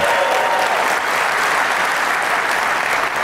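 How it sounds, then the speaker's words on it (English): An audience at the FreedomFest conference breaks into loud, sustained applause mixed with crowd noise, a dense and steady roar from many hands that lasts throughout. "I want you to just clap or yell or whatever when I ask you which of these other organizations you'd like me to go after."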